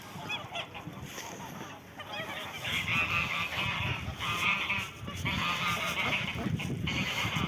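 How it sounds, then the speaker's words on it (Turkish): Geese honk repeatedly at a bird-rich spot in Ürgüp Ortahisar after being fed, loud overlapping calls in bursts from a nearby flock, with a faint voice at the start. "Gazları besledik az önce"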